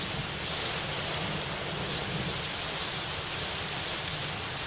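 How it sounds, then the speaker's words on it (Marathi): Heavy rain in Mumbai near Thane railway station, a steady dense roar of downpour with no breaks, loud and continuous throughout. "अगदी सकाळपासूनच मुंबईत पाऊस सुरू झालेला आहे"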